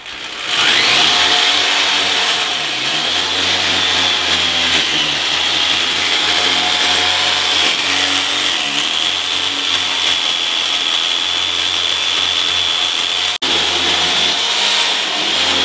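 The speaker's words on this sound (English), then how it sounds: "Like drilling through a block wall" A power drill bores through a concrete block wall on a house build site, a loud, steady high-pitched grinding whine that runs nearly unbroken throughout with one brief cut-out near the end.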